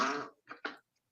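In a courtroom, a short, raspy fart sounds once, followed by two quick sputtering bursts, then silence.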